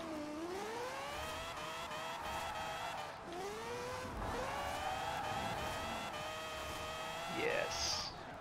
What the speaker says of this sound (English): Fun to skid in real life.